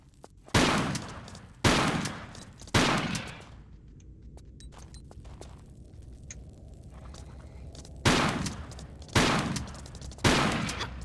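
Six loud, close shotgun blasts from Tomb Raider: The Last Revelation, firing wide shot ammo, come in two groups of three with a quiet stretch between, each boom decaying quickly.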